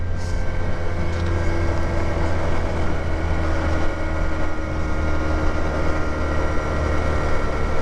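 A Junak M15 125cc motorcycle on a test ride gives a loud, steady engine drone mixed with rushing noise while it keeps gaining speed, with no distinct gear changes standing out and no talking.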